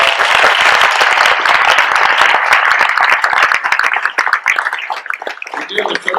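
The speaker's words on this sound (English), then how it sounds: "let's just give them all a round of applause" A large convention panel audience applauds volunteers, dense loud clapping that fills the room and then thins into scattered individual claps toward the end.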